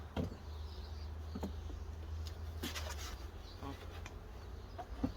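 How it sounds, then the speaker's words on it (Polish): Honeybees flying back to the entrance of a nucleus hive raised from a mating box, a steady faint buzzing hum with a few louder passing bees close by. "Jak widać pszczoły już wracają."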